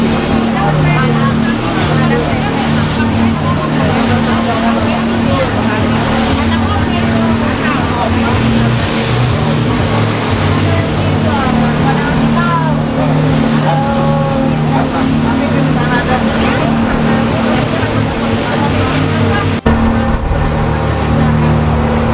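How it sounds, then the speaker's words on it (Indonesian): Speedboat crossing to Nusa Penida, Bali, its engine droning loud and steady throughout with water rushing along the hull, a constant roar that shifts slightly near the end; voices talk intermittently over it. "Jadi itulah kalau naik speedboat, kapal cepat."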